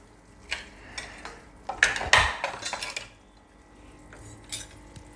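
A metal spoon scrapes and clinks against a pan while stirring a stuffed drumstick vegetable curry, with a few sharp knocks in the middle and lighter scattered taps, close and moderately loud, no voices.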